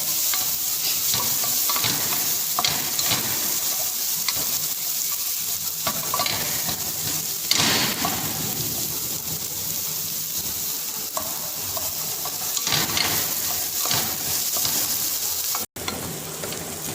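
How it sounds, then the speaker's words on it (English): Chopped onion stirred continuously as it fries in a pan for Punjabi lababdar, giving a steady close sizzle with scraping stirring strokes throughout. "after adding onion, we'll continuously stir it till the onion gets brown"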